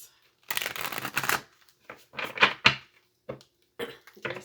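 Tarot cards shuffle in several separate bursts of riffling and flicking, close and crisp, with short pauses between them and no talking.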